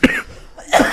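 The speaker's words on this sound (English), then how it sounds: "I'm going to cough through this" A person coughs twice in close succession, sharp and near, with a brief gap between the two.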